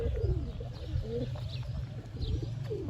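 Pigeons coo in low, throaty rolling calls, close by and repeating, inside a coop, with faint rustling around them.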